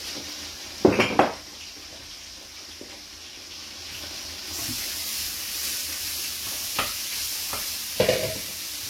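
Oil heating in a frying pan hisses steadily while a few utensil clinks and knocks sound against the pan, close and without talking.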